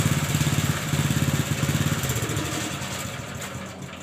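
An air compressor runs in a motorcycle workshop, with a pulsing mechanical chug near and steady at first, then settling into a smoother continuous hum.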